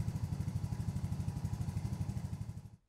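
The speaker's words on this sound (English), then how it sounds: "Start the engine" A small Polaris Ranger 150 utility vehicle engine runs with a fast, even chugging putter, close and steady, then cuts off abruptly at the end.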